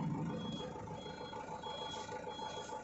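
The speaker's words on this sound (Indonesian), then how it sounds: "Truknya sudah berjalan mundur." A truck reversing slowly gives off a steady, repeating electronic reversing beep over a low engine rumble, close and continuous throughout.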